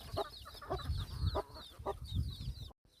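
Hens cluck on a farm where small chicks have hatched, with a run of short, close, rhythmic clucks and a few higher calls before the sound abruptly cuts off.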